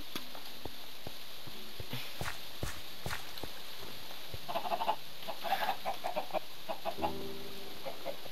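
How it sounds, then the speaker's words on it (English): Chickens clucking at a small chicken farm in a Minecraft-style game, scattered short clucks mixed with soft footsteps, the clucks clustering more densely toward the end, with no talk. "just a little chicken farm, which he's got"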